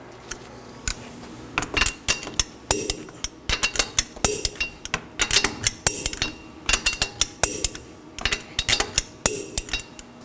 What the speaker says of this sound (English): I'm going to torque my fasteners to 83 foot-pounds in a crisscross pattern